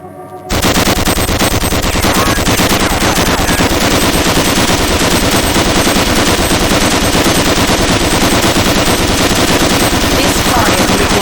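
An overheating weapon in the video game Gunman fires nonstop in a loud, rapid machine-gun stream that starts abruptly after a brief quiet moment and continues unbroken to the end.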